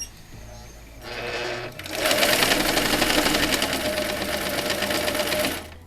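Quilt block pieces are fed through a sewing machine that starts with a brief run, then stitches steadily and loudly for several seconds before stopping.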